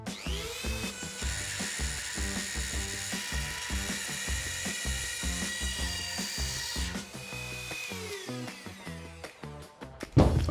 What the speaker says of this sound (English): I'm using the multi-purpose cutting kit instead of a jigsaw